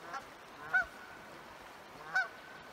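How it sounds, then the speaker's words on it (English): Geese floating down a river give two clear honks about a second and a half apart, distant and outdoors over a soft steady wash of moving water. "Some geese floating down past us."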